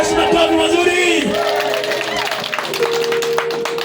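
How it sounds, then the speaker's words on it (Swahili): A church congregation claps in quick scattered bursts over sustained singing and shouted voices, with cheering and whoops mixed in close by, and a loud crowd fills the space. "Ongeza Yesu makofi mazuri."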